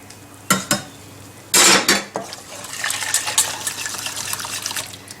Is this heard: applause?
no